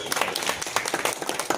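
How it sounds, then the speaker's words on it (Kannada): An audience at a Bhoo Lakshmi Varahaswamy temple committee meeting gives a short burst of scattered hand claps, close and moderately loud. "ಚಪ್ಪಾಳೆ"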